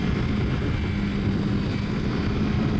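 Kawasaki Versys X 300 small-displacement motorcycle engine while riding, a loud steady low drone with a faint whine, mixed with wind rush and no talking.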